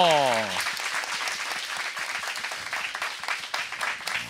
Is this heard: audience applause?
yes